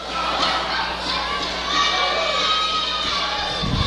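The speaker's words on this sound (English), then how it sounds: "This crowd is behind La Sombra. You can hear him chanting his name." Wrestling event crowd roaring and shouting in support of a wrestler, a loud, steady mass of voices with occasional thuds from the ring and a heavier thump near the end.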